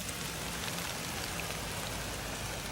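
Light rain just beginning to fall in the woods, a soft, even patter and hiss that stays faint and steady throughout.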